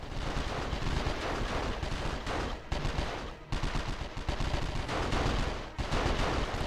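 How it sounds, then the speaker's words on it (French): Dense, loud gunfire from the video game 24: The Game, with rapid automatic bursts and heavy blasts overlapping almost continuously, broken by a few brief pauses. "On nous tire dessus."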